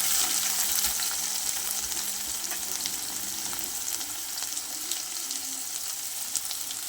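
Chopped onions, curry leaves and green chilli sizzle steadily in hot oil in a pan, a constant bright crackle with soft occasional stirring and no voices.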